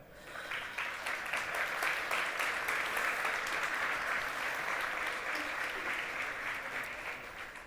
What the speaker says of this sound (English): Please give a huge round of applause for this year's Honorary Bizkaia Award, Brenda Romero.